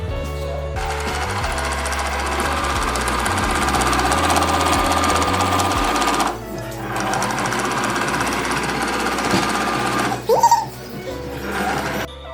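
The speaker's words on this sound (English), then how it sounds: "Okay, so we are sewing the waistband part" A sewing machine stitches the waistband of a skirt with a steady, close mechanical whir and rapid needle clatter. It runs continuously for about twelve seconds, with brief shifts in pace near the middle and toward the end.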